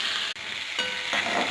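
Chopped onion hits hot oil with cumin in a kadhai and crackles into a loud, continuous sizzle with a brief dip and renewed bursts, close and alone without talk.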